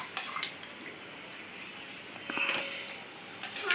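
Parottas and vegetable bhaji being dished onto plates with a small spoon for breakfast, giving faint scattered clinks and scrapes of utensil against dishware over a quiet room hiss.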